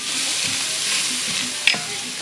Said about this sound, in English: we can go ahead and put the sausages in